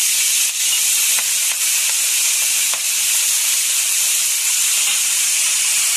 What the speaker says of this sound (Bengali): এখানে শাক দিয়ে দেখছি তেলের ভিতরে